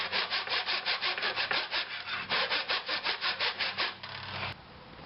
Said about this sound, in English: I just decided to cut them in a miter box